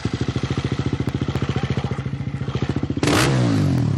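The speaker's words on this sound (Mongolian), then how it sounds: "Одоо жишээлбэл яг энэ миний урд байгаа мотоциклийн дуу чимээ стандартын шаардлага хангаагүй" A loud motorcycle fitted with a non-standard, modified exhaust, its engine pulsing in a fast, regular putter close by before a sudden sharp burst of revving at the end.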